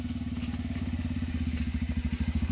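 A motorcycle engine runs close by with a steady, rapid low thumping pulse, loud and even like an idling single-cylinder bike, with no talking over it.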